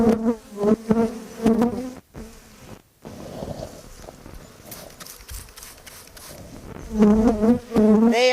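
Honeybees buzz loudly around a queen cage during hive work, with a steady droning swarm and voiced tones rising and falling close by, interrupted by short quiet gaps.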